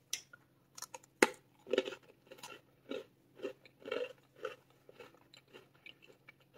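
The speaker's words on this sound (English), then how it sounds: "So this is a really crunchy cookie." Repeated crunchy chewing of a Simple Mills Sweet Thins chocolate brownie cookie close to the mic, a sharp bite followed by a steady series of crisp crunches, with no talking.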